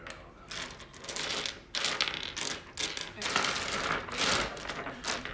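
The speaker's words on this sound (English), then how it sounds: "Do you like the sound of dice? Clicky, clacky" Dice clicking and clacking in repeated loud bursts, rattling and tumbling in quick rhythmic clusters with short pauses between rolls.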